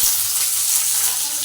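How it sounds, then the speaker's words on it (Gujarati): Thin potato chip slices frying in hot oil for sabudana khichdi, a loud, steady, close hiss of sizzling with no pauses. "તો જો તેલ આવી ગયું છે. પહેલાં આપણે બટેકા સાતળશું."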